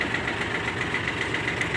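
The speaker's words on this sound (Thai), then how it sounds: "เสียงพัดลมเนาะ" A steady, loud whirring hum with a faint rhythmic pulsing: the cooling fan of an Isuzu GXZ 360 truck spinning beside its idling engine.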